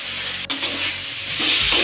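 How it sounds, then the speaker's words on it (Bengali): Fried shrimp are stirred into spice masala in a hot pan, giving a soft, steady sizzle with scraping stir strokes, close and alone. "এখন আমি এগুলো ভালো করে কষিয়ে নেব"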